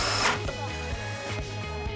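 Power drill driving screws to fasten metal hairpin legs onto a round wooden tabletop, a close whirring motor pulsing in short repeated bursts.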